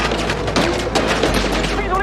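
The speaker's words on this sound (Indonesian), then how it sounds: "Baku tembak pun terjadi dengan sengit di perumahan itu." Sustained gunfire from a heated shootout at a housing complex in a Korean action film, dense and continuous, with police firing on the group and a voice heard over the shots.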